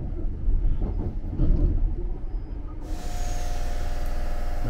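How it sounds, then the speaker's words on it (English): Steam locomotive 61306 Mayflower pulls away from Manningtree station in Essex, a steady loud rumble building as the train departs, with a brief hiss near the start and no talk. "And away the train goes"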